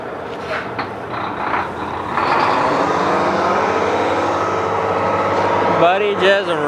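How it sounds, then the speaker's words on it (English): An old Freightliner truck engine revving, a loud rising diesel roar that holds steady and then drops, heard nearby with talk over it. "Buddy just revving her up there."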